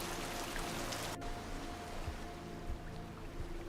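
A dense, steady rush of falling water fills a room in the video game Rain World, a constant roar of heavy waterfall ambience with no voices.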